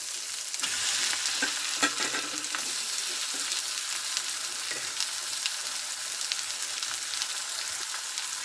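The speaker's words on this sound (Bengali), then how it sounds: "তো চিকেনটা আমি ভালো করে মশলার সঙ্গে কষিয়ে নেবো" Chicken pieces sautéing in spicy masala for a gravy chicken, with a loud, steady frying sizzle throughout and spoon stirs scraping the pan at intervals, close up and with no one talking.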